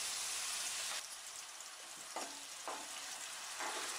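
Onion paste frying in hot oil for a pomfret fish curry, a close, steady sizzle broken by a few brief stirring scrapes in the pan, with no voices.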